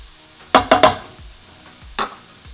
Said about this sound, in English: I'm going to add in my jalapenos now. I'm going to stir it in.